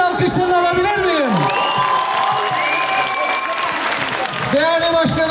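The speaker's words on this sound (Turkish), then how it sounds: "sizlerin de koca bir alkışlarını alabilir miyim?" Audience applause and cheering at a Victory Day concert, a steady crowd wash of clapping with some whoops, while a voice speaks loudly over it through a public address system.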